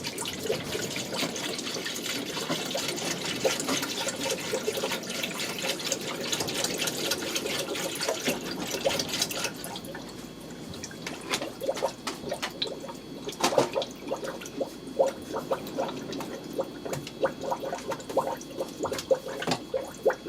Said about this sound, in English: let's try to put coolant on and let's see if still there's a leak